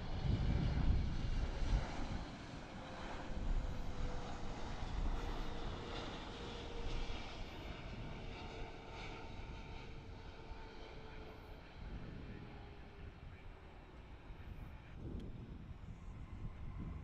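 A wide-body Emirates Boeing 777-300 airliner passes overhead near DFW airport in summer heat, its broad, steady jet roar loud and sustained throughout, easing slightly as it moves on.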